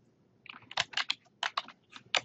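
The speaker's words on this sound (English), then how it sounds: "Just type in the word" Fingers type on a computer keyboard, producing close, crisp, irregular key clicks in quick clusters with brief gaps between them and no talking.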